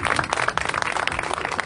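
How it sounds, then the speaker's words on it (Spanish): Audience applause at a comic book presentation during a book fair, a dense, steady wash of many hands clapping close by for under two seconds, with no voices standing out. "Un aplauso."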